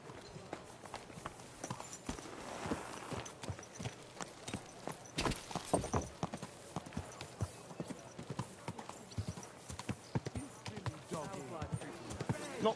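Horse hooves clip-clop at a steady walking pace in the video game Kingdom Come: Deliverance II, with occasional snorts, while people talk over the hoofbeats.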